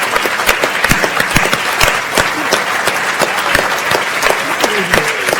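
A science festival audience at the international final claps in a dense, steady burst of applause that stays loud and even throughout, with no clear voices over it.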